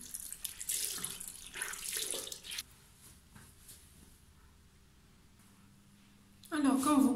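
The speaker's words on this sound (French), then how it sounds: "on va mouiller notre lingette à l'eau chaude" Hot water running from a tap to soak a makeup remover wipe, a steady splashing stream at the start and again briefly near the end, with quieter handling in between; someone speaks at moments.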